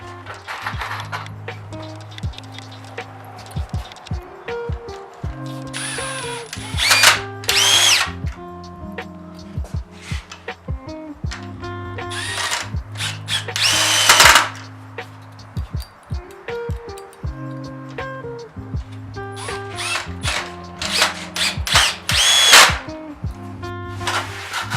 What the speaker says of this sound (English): we're just drilling some extra holes, adding a few extra screws just for a more secure hold.